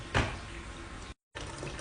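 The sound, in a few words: water filling a washing machine for rinsing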